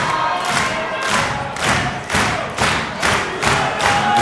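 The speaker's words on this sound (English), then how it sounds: "Capacity crowd here in the home of MCW, the Thornbury Theatre, getting behind Erika Reid" A capacity crowd at an MCW professional wrestling event in the Thornbury Theatre roars in steady rhythmic bursts, chanting and stomping in a regular pulse, loud and close throughout.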